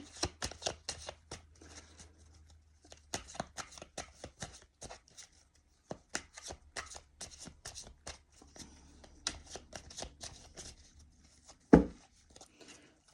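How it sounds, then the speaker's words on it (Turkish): Tarot cards being shuffled by hand in quiet, fairly faint bursts of crisp riffling and slapping, with brief pauses between rounds and a sharper knock near the end. "dilerseniz hemen kartlarımı karıştırmaya başlayalım"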